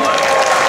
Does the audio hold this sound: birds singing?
no